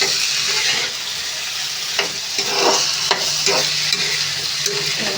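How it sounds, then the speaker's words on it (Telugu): Potato pieces frying in a pan give a continuous loud sizzle, with periodic scraping and stirring strokes breaking through the steady crackle; no voices. "ఇలా ఫ్రై చేసుకోవాలండి."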